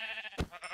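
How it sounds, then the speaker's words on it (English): A single brief, faint sheep bleat in the Minecraft video game, heard alone over a quiet background. "There's a sheep. I heard a sheep."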